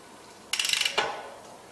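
Pinch bolts on a Hollowtech bike chainset being undone with a ratcheting tool, a quick close run of about eight ratchet clicks followed by a single louder click, then quiet.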